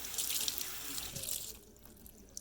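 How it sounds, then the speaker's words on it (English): Hot water runs from a kitchen tap into a sink, a soft splashing stream that eases off partway through, fairly quiet with no talk. "So all I do is turn the hot water on"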